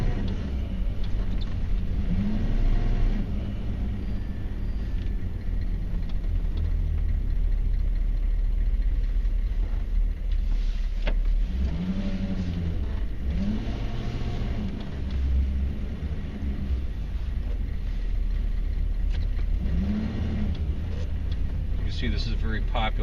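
A 1994 Chevy Silverado K1500 with a 6.5L turbo diesel drives along with a steady low engine rumble and road noise, as people talk over it throughout.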